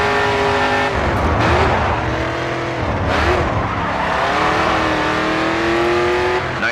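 A race car in GRID 2 on Xbox 360 roars loudly and continuously, the engine pitch rising and falling through gear changes while tires squeal and skid through a turn.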